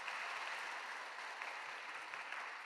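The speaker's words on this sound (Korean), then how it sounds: "은혜의 말씀을 전해주신 선교사님께 감사의 박수 드리겠습니다." A church congregation at an early-morning service applauds in a steady, even patter of many hands, soft and somewhat distant.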